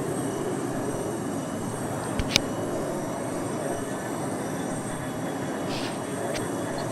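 A fixed-wing aircraft takes off along a runway in the video game Arma 2, its engine a steady, loud, continuous roar with a single sharp click midway.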